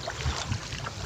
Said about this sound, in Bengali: পানির বাড়ির আওয়াজটা কেমন লাগলো কমেন্টে জানাবেন।